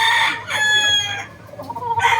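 Gamefowl roosters crow loudly and close, with overlapping calls and a few clucks between them, in two main bursts.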